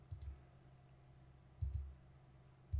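Computer mouse clicks on a desk during file editing on a PC, a quick double click near the start, another double click later and a single click at the end, crisp and close over a quiet background.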